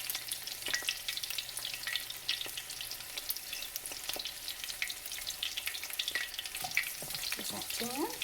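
Beer-battered shrimp and onion rings frying in grease in an electric skillet, a soft continuous sizzle and crackle with occasional pops and faint stirring clinks, no voices.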